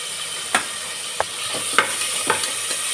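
Ginger, garlic, curry leaves and green chilli frying in hot oil in a pan for a Kerala coconut chicken curry: a continuous close sizzle broken by several sharp spoon knocks and scrapes against the pan.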